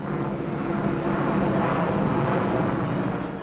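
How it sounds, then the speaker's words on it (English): A de Havilland Comet, a long-range jet airliner of 1950, flies past with a loud, even roar that holds steady for a few seconds, as in old newsreel sound. "Still supreme, the world-famous long-range jet airliner de Havilland Comet has a cruising speed of 490 miles an hour."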